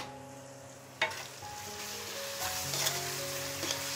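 Onions with ginger-garlic paste frying in a pan for a shrimp and pumpkin curry, a continuous sizzle rising after a sharp clack of a utensil, with scraping stir strokes and ringing metal taps.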